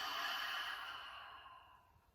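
A single deep cleansing breath is exhaled through the mouth during a chakra-balancing session, a soft airy whoosh that starts strongest and gradually fades over about two seconds, heard alone and close.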